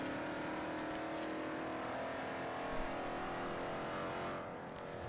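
Car driving in Forza Horizon on an Xbox Series console, set in Colorado: a steady, loud engine drone with revving runs throughout, easing slightly near the end, with no talk.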